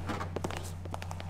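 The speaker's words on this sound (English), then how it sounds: "Did you hear my one footstep?" A single footstep in the stealth game Thief 2, a soft, brief thud heard over a steady low ambient hum and scattered faint game noises.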